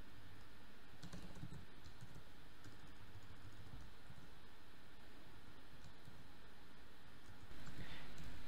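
Steady, close typing on a computer keyboard while writing code, a continuous quiet patter of key clicks over a hissy background with no voice.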